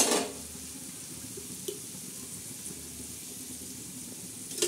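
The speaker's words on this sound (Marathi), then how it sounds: "हे बघा असं चांगलं असं मस्त फ्राय करणार आहोत." Okra (bhindi) frying in oil on a flat tawa, giving a steady, low sizzle throughout, with a few soft clinks of a utensil near the start and end.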